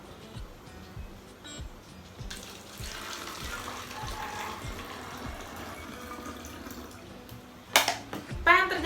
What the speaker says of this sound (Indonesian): lalu juga tuangkan air ke dalam botol.